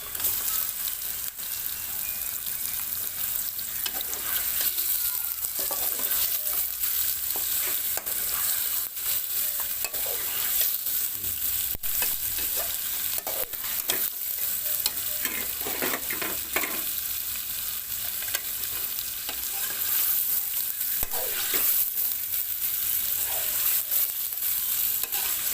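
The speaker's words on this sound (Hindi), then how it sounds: "इसमें जाएगा जी ये 1 किलो चिकन" One kilo of chicken sizzling in hot oil in a pot for chicken korma, with a steady frying hiss and repeated scraping, stirring knocks of a spoon against the pot, close and continuous, with no talking.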